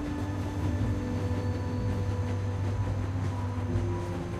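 Low steady rumble of a moving train in The Walking Dead game, with sustained hum and faint rail drone running evenly throughout, no voices.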